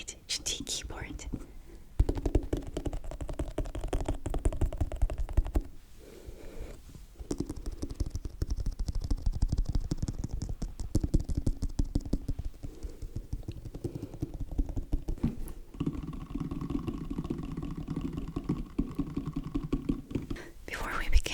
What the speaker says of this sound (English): I received this Ace 68 GT keyboard.